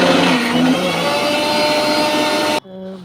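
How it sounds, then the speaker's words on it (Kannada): A kitchen mixer grinder whirs loudly and steadily, blending butter fruit (avocado) with milk and jaggery into a thick milkshake, then cuts off near the end leaving a faint hum. "ಮಿಕ್ಸಿಲಿ ರುಬ್ಕೊಂಡೆ ಸ್ವಲ್ಪ ಗಟ್ಟಿ ಬರುತ್ತೆ"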